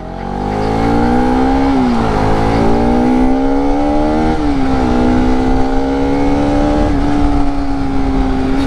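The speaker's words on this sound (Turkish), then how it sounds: "yaklaşık 45 dakikalık işlemin ardından motosikletimize biniyoruz" A Bajaj Pulsar RS200 motorcycle rides on freshly fitted tyres, its engine holding a steady, close buzzing tone that rises and dips slightly with gear changes and throttle over several seconds.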